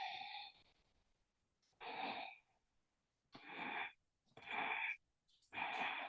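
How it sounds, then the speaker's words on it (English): Forceful breaths pushed out through the nose and mouth in a Kundalini kriya yoga practice, five strong breathy bursts separated by short pauses, close and alone. "and fully exhale."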